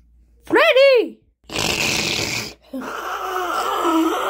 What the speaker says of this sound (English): That is the weirdest snore I ever heard in my life